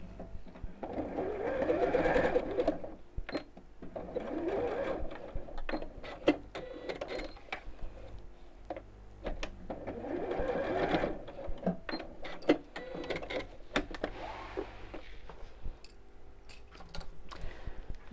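A sewing machine runs in repeated bursts as it stitches across the top of webbing pieces on a child's backpack, pausing briefly between runs with small clicks and handling noises close by.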